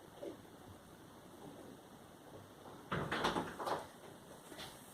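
An indoor door opens to let a dog out, with a brief clatter of the latch and creak in the middle against a quiet room, preceded by faint small shuffles.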